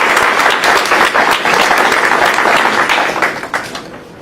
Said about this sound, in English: I think we owe staff here for coming out and giving us this fine presentation a round of applause